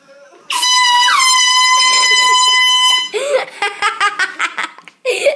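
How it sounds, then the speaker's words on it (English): A loud air horn blares in a single sustained blast for about two and a half seconds as a prank, followed by close bursts of laughter and giggling. "That was the air horn prank."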